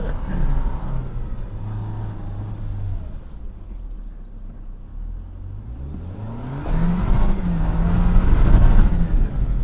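A 2024 Toyota Land Cruiser 1958 driving off-road downhill over rough terrain, its engine droning steadily from the cabin, easing off mid-way, then rising and revving louder with bumps and rattles toward the end.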